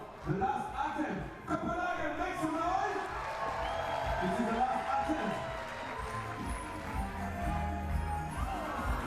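A Copenhagen crowd at a 3x3 basketball event roars and cheers loudly and continuously, with whoops and claps rising over an announcer's voice.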